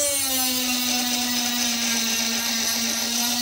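A small drill spins at high speed as its bit cuts notches into a fishing lure, a continuous whining tone holding steady and close for a few seconds, with no talking.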